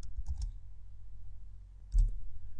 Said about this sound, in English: Or go to a whole new chapter by typing in the chapter number,